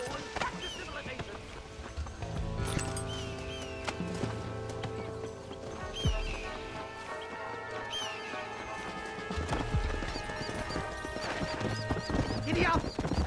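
Hooves gallop in a Red Dead Redemption game scene, a dense rhythmic clatter running throughout under music and other game sounds, with a voice speaking over it.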